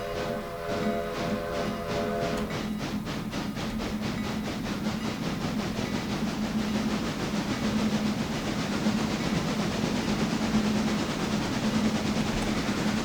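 Steam locomotive in the Railroader video game pulling away at full throttle, a steady loud chuffing and rumbling rail noise with a brief bell-like ringing at the start, continuous and close with no talk.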